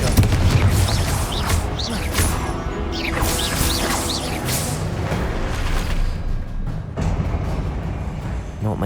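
Repeated Confringo spell blasts and crashing impacts from a Hogwarts Legacy boss fight come in a dense barrage of booms and whacks. Loud, chaotic battle noise with a voice shouting among the hits.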